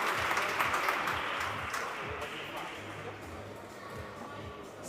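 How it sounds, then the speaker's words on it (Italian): Spectators at a padel tournament applaud after a point, a fairly quiet, even wash of clapping from the crowd that fades slightly as it goes on. "Ora arrivano gli applausi da parte di tutto il pubblico"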